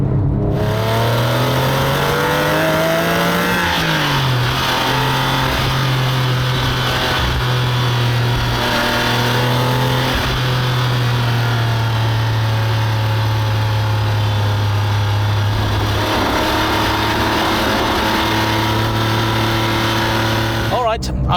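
A Porsche 996.2 911 GT3 engine driven hard on a twisty road, a loud continuous flat-six note rising and falling as it revs through corners, with a person talking over it.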